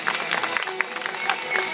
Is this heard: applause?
yes